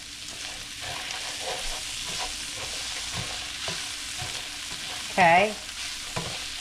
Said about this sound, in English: I got the pan heated back up. Just a little toasting. It keeps the pasta with a bit of a bite.